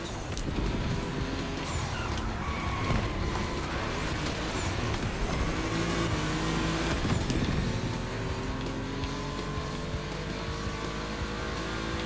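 Volkswagen race cars run on track in the video game The Crew Motorfest, their engines a loud, continuous roar that holds steady for several seconds before easing slightly.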